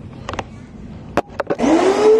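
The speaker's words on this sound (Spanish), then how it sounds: "primero me aseguro de utilizar la aspiradora en el modo de lavado" A carpet-washing vacuum cleaner switched to wash mode on a living-room rug: a few clicks and thumps of handling, then the motor starts up with a loud rising whine that keeps running.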